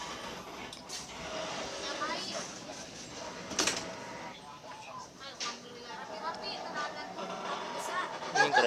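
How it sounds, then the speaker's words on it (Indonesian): A Ranggajati passenger train in Indonesia rumbles past at moderate distance with rattling and clanking, while a voice talks over the noise throughout. "Dan itu bertemu dengan sebuah kereta api."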